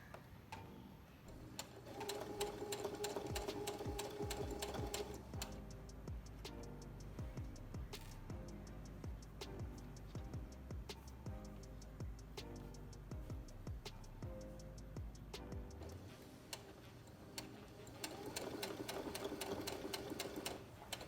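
Sewing machine stitching the neck casing of a beginner Simplicity S8911 garment, running in steady rapid mechanical bursts with brief pauses, close and clear with no talk.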